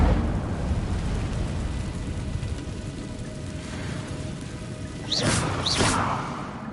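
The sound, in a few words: Incendio fire spell explosion in Hogwarts Legacy video game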